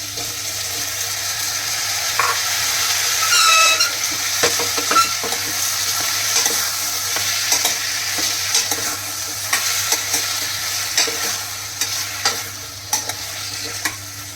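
Bottle gourd goes into a pan with frying potatoes, and the steady sizzle continues under repeated scraping stirs and light spoon knocks.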